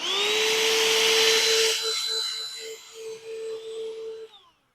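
A handheld vacuum runs in a garden where it sucks bugs off sun gold tomato plants, a steady high whine that holds, then dips and sputters as it pulls at foliage before switching off and winding down.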